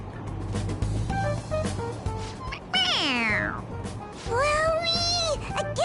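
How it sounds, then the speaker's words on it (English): A toy cat in the video game Persona 5 Royal gives two drawn-out, high meows, each triggered by pressing on its head, heard over a low game background hum. "It meows when you press on its head."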